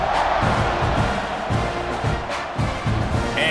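A stadium crowd cheers steadily in the EA College Football 26 game, a Texas A&M versus South Carolina kickoff, with a dense, continuous roar that stays fairly loud throughout and has a few swells.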